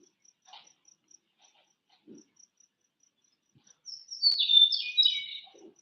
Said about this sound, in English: Sound a little bit like a meadowlark, western meadowlark.